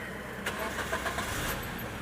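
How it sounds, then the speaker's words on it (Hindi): Maruti Suzuki Ertiga engine being cranked during a check for an immobilizer security-light fault, giving a steady mid-level churning drone with a brief louder burst near the start, no voices. "और क्रैंकिंग करते हैं"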